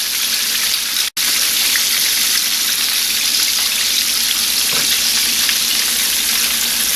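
Chicken pieces frying KFC-style in hot oil, a steady, dense sizzle and crackle filling the clip, close and loud, with a brief dropout near the start.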